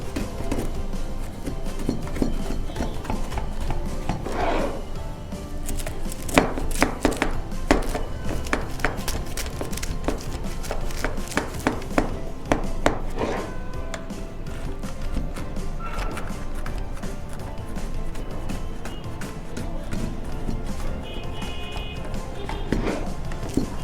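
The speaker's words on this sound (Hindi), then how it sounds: "आपको आवाज़ आ रही होगी, हल्की हल्की क्रिस्पी जो है वो हमारी ब्राउनी के एजेस हैं।" Scraping and tapping of a knife working around the edges of a pan of chocolate fudge brownie, with crisp crackling bursts from the crispy edges and light knocks repeating steadily, close up.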